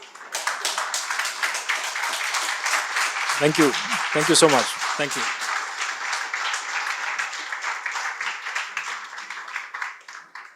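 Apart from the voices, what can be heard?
audience standing and clapping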